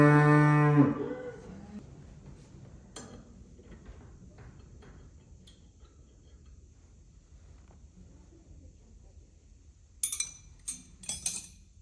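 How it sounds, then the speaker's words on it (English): A cow lets out one loud, drawn-out moo close by at the start, followed by a quiet workshop and some sharp metallic clinks near the end. "your cow is very vocal"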